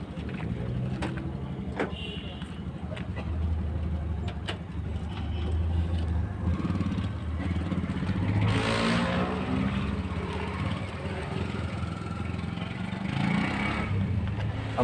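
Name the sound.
motorcycle engine running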